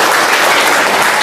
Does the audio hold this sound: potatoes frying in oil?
no